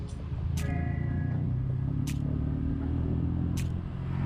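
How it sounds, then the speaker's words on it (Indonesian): Cars crawl in a traffic jam on a rural road, a steady close engine rumble throughout with a few brief higher whooshes of passing vehicles. "Ini ada apa sih, macet."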